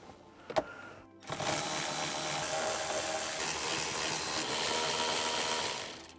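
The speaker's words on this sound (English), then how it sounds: "there's four bolts holding on the shifter plate that we'll remove with a 10 millimeter socket." A 10 mm socket on a power driver backs out the shifter plate bolts of a Nissan 350z during a short shifter install, a steady close whirring and grinding running about five seconds after a brief knock, with no talking.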